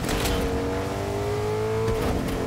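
A car engine in the video game Fortnite hums and revs steadily, its pitch rising gradually and then settling, close and continuous for a couple of seconds with no talking.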